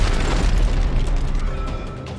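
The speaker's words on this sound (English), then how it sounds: "Now it's my turn to shoot rockets at you," A rocket explodes in the Dead Space 3 video game, a deep booming blast with a heavy low rumble that slowly dies away.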